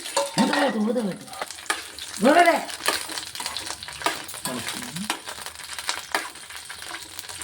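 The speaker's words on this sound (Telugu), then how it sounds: "పచ్చిమిర్చిని దోరగా వేగనివ్వాలి" Green chillies fry and get stirred in a pan for an old-style tamarind chutney, giving close, uneven scraping and sizzling bursts with a couple of sharper stirring sweeps, and no voices.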